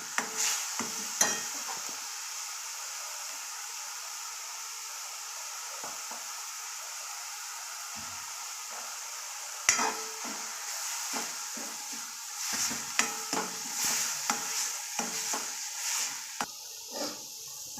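Ground masala with garam masala roasting in oil, a steady sizzle with bursts of stirring and scraping strokes that grow busier toward the end, close by.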